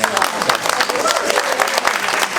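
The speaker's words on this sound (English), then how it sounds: "So, claps for you guys." Audience at a Con of Thrones 2018 convention panel applauding, a dense, loud burst of clapping filling the short stretch, with some voices mixed in.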